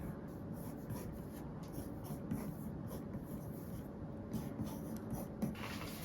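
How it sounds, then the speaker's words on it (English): A pen or pencil sketching an anime character outfit on paper, faint close scratchy strokes repeating steadily at low volume. "I'd like to draw Deku's outfit"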